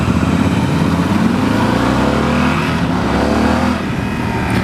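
A 2016 Yamaha Super Tenere XT1200Z motorcycle accelerating in touring mode, its engine drone steady and loud with rising harmonic sweeps as it pulls away, heard close over continuous wind rush with no talking.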